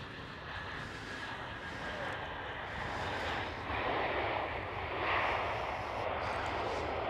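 JetBlue Airbus A321neo jet at Amsterdam Schiphol, a distant, fairly faint broadband engine roar that swells slightly and holds steady, with a little wind noise.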